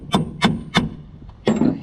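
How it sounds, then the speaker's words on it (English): Hammer blows seat an extension housing bearing on a 2007 Chevy/GMC, with three sharp metallic strikes in steady rhythm, a pause, then a fourth heavier hit, close and loud. "a hammer. That's almost all the way down."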